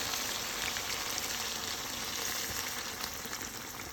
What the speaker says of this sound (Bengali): মুরগির হাত পাগুলো ভালো করে কষিয়ে নিচ্ছে।